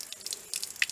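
Water from a small roadside spring that runs constantly, heard as a quiet series of light drips and trickles, close by and alone.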